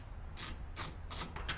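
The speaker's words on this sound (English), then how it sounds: "I'll put this on my 1/4-inch drive" Ratchet on a 1/4-inch drive backing a screw out of a Porsche 914 door handle, giving a few short, close clicking bursts with brief pauses between them and no talking.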